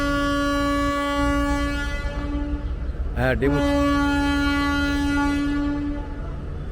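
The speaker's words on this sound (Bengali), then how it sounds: "ডেমু সিটি দিয়েছে, ডেমু ছাড়ছে" A DEMU passenger train on a meter-gauge Bengal Duars Railway line sounds a loud, sustained multi-tone horn, with a brief warble midway, over the rumble of the departing train; a voice briefly speaks.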